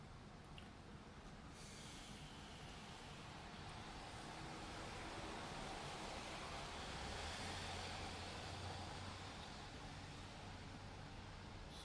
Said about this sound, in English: Bring mindfulness to the noise outside. It's a beautiful sound, by the way. It happens to be cars are passing by.